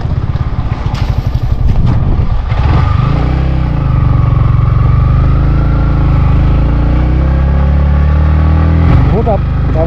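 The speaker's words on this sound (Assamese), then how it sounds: "বহুত আপ উঠাবলগীয়া হৈছে বাইকখন, তাতে আজি মোৰ লগত যিটো আহিছে বাবুল হ'ল যে আজি অলপমান কষ্ট পাইছে বাইকখনে" A motorcycle on a steep mountain road to Bumla Pass labours uphill, its engine droning loud and close. Gear shifts and revs can be heard early on, and the wind roars under the engine throughout.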